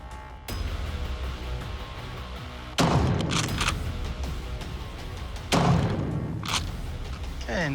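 Gunfire at a shooting range: after a sharp opening crack, two loud close shots ring out about three seconds apart, each with a long echoing tail over steady background noise.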